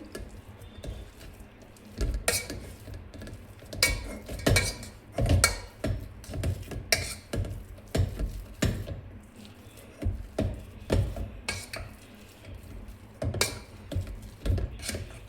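Soft squishing and thudding of a utensil pressing into soft mashed boiled sweet potatoes in a metal pot, repeated in an irregular rhythm, close up.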